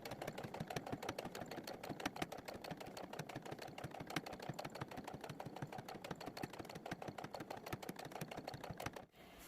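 A sewing machine runs a steady seam on a sun cap's brim, stitching at 1 cm spacing. The needle chatters in a rapid, even rhythm throughout and stops abruptly near the end. It plays close but quiet, with no voices.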